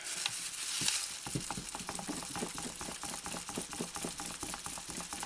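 Cold process soap batter is stirred in a container, giving a steady run of soft, wet, evenly spaced clicks and scrapes that continue throughout at low volume with no voice.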